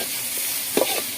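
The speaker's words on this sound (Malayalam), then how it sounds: "സവാള നന്നായിട്ട് വഴച്ചെടുക്കാം." Onions sautéing in a pan for a cooking dish, a soft steady sizzle with a brief stirring scrape in the middle, faint and without talk.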